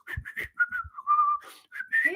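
A person whistles a short melodic phrase alone, close and clear, with a few rising and falling notes and brief breaths between them.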